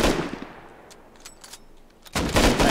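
Gunfire from a player shooting in the Rust video game: an opening burst, a quieter stretch with a few faint scattered shots, then a loud close volley at the end.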